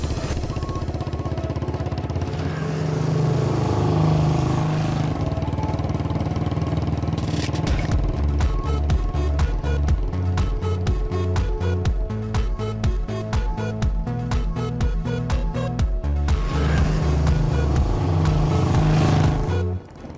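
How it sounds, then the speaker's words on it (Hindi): A motorcycle engine hums steadily under a musical film score, then drops to a lumpy, pulsing idle as the bike comes to a stop, with the music continuing over it. "यहाँ क्यों बाइक रोक दी?"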